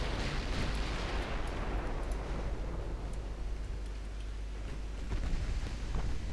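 Three battleships pour gunfire onto a French ship in Ultimate Admiral Dreadnoughts, a dense, continuous rumble of overlapping heavy cannon booms with brief sharper cracks, loud and sustained with no talk.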